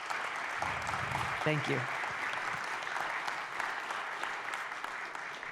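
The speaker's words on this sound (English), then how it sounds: "a round of applause, please?" A crowd applauds steadily throughout, a dense wash of clapping, while a voice briefly speaks over it, at a political town hall in Fairfield, Iowa.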